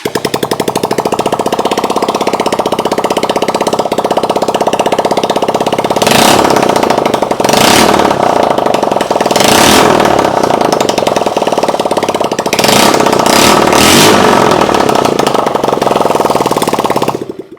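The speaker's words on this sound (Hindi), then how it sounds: "तो इंजन की वर्किंग हमने चेक करनी है, तो आएँ इसको स्टार्ट करते हैं।" An ATV buggy being converted to a drift go-kart runs with no exhaust, its engine clattering harshly and loudly at idle, then revving in several rising bursts before cutting off at the end.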